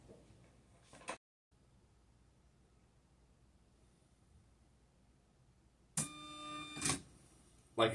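A Videojet 107mm printer runs its carriage into the home position after a long quiet stretch: a short mechanical burst near the start, then a loud whirring, clicking motor run near the end, close and alone.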